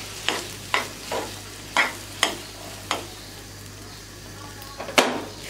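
Semolina halwa (mohonbhog) cooking with ghee in a pan, a soft low sizzle under a steady hum, punctuated by about eight evenly spaced scraping stirs of a spoon against the pan.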